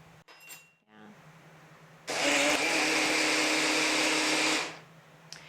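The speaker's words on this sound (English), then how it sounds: "I use a blender in order to create an emulsification" An electric blender whirs loudly through garlic, grated ginger, oil and vinegar, starting abruptly after a few quiet kitchen clatters, holding a steady high-pitched roar for a couple of seconds, then spinning down.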